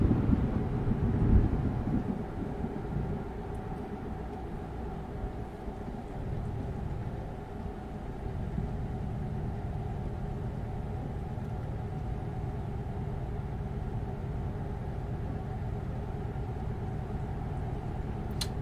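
A car engine idles at low revs in a driving simulator game, a steady, quiet low hum and rumble that holds throughout with no talk.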